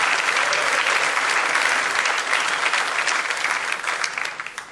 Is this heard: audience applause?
yes